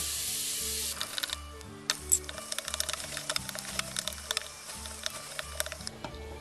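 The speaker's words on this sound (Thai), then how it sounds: "เราก็จะผัดไปจนหมูแฮปปี้นะคะ หมูสุก" Pork stir-frying in a pan for lasagna gives a steady, quiet sizzle with crackling pops, and a low rhythmic thumping runs underneath throughout.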